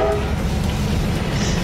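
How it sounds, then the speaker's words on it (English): A train on the Vietnam railway passes very close, its horn sounding loudly at the start over a heavy, steady rumble of wheels and carriages. "there's a train coming"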